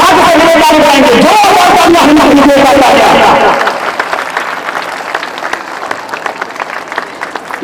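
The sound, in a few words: audience applauding, clapping hands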